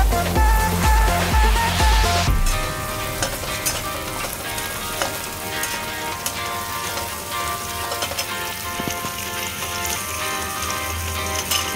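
Sliced onion and crushed garlic dropped into hot oil with bay leaf for masala brown rice burst into a loud, dense sizzle. After an early clatter, a steady crackling hiss continues close up, with no talking.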